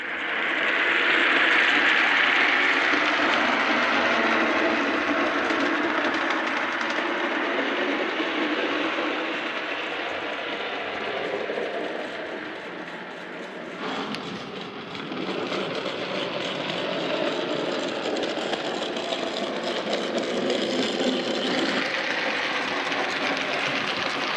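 A model train track-cleaning car with a cloth roller runs around a dirty layout, giving off a continuous whirring, clattering rumble that swells and fades slightly as it travels, heard alone without voices.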